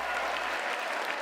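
Sustained applause from a large audience at the State of the Union, a dense, even clatter of many hands lasting throughout.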